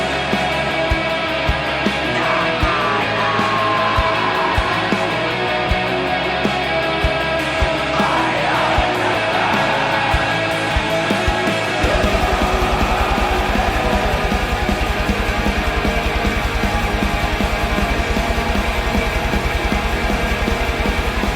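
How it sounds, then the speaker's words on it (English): A black/death metal song plays throughout, a dense, unbroken wall of distorted guitars and pounding drums under harsh screamed vocals, loud and steady from start to finish. "it's not like the vocalist articulates his screams. Here's a snippet."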